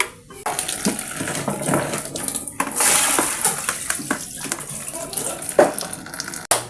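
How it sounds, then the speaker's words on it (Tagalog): Water pours and splashes into a bowl or sink to soak sweet potato fries, with light clinks of dishes and handling noises close by. "So, babad muna natin sa tubig."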